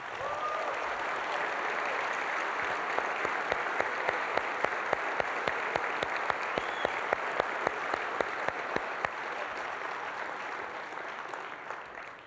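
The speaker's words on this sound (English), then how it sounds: "I want you to recognize our user group leaders and our SWGN committee with a huge round of applause" Large conference audience at SolidWorks World 2013 applauding user group leaders and committee members, a dense, steady wash of clapping that holds at even strength for the whole stretch without talk.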